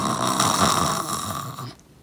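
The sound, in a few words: snoring sound effect in a children's story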